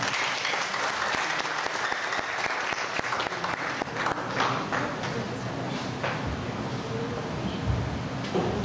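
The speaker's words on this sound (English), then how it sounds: "let me call with a rousing round of applause" Steady audience applause at a conference welcoming Mr. James Fantone, a dense wash of clapping that keeps its level throughout without breaks.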